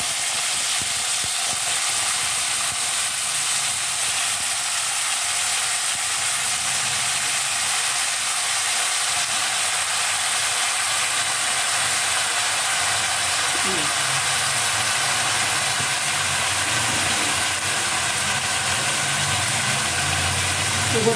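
Brinjal sautéing in a pan with mustard seeds and urad dal gives a steady, loud sizzle and hiss that runs unbroken throughout, with a faint voice briefly audible partway through.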